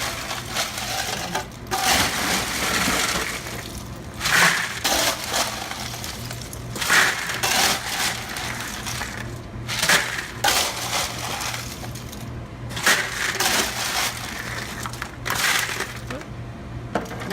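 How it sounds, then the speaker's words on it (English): Ice in a salad bar buffet setup is struck hard and broken up in repeated bursts of crunching and cracking, several loud impacts spaced a few seconds apart, close by with no talking. "I like to hit it kind of hard so that way it breaks up as much ice as possible"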